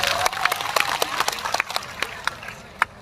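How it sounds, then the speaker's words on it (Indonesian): Crowd at a haul commemoration gathering clapping, scattered loose claps that thin out into a few separate slaps, heard from a little distance. "Tepuk tangan untuk Mas Arif."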